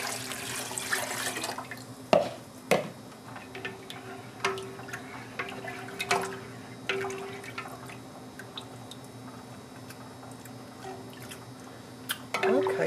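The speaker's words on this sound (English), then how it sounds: "So I'm going to add about 3 cups of water." Water poured into a batch of pickle brine during home canning, a splashing burst at the start followed by sporadic drips, clinks and taps against a steady low kitchen hum.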